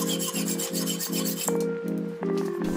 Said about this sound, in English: I cut off the tips of a chain